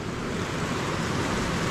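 Water rushes over a small weir in the Jizera Mountains, a loud, steady, broadband roar that holds without a break, with no voices over it.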